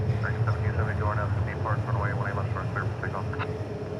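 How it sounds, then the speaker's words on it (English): A Boeing 777-300 airliner arriving on runway 18 at DFW Airport makes a broad, steady engine roar, while someone talks continuously over it at close range. "777-300 number 3 here on 18 left, or maybe arriving on 18 right"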